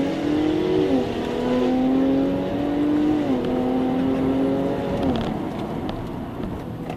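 Pre-production Jaguar XE Sport accelerating hard on a closed road, its engine note climbing through several rising sweeps with quick upshifts of the ZF 8-speed automatic, loud and heard from inside.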